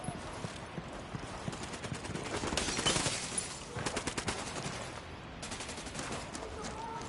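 Bursts of automatic gunfire in a PS4 video game, rapid rattling volleys that rise and fall over a busy, noisy background.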